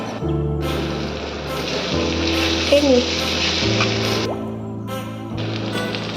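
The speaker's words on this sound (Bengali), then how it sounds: "ভাজা হয়ে যাচ্ছে।" Onions sizzle steadily in hot oil in a pan for a Bengali prawn dish, a loud continuous frying hiss with light stirring sounds and no talk.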